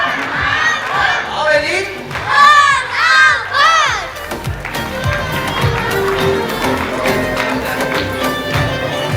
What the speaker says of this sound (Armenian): Ծափերով գնացինք